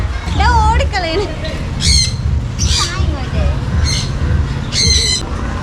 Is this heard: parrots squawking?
yes